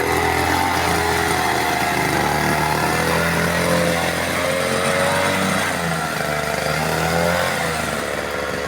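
A homemade mini tractor with a petrol brush-cutter engine idles as it creeps along, the small two-stroke motor droning steadily and loudly close by, its pitch wavering only slightly.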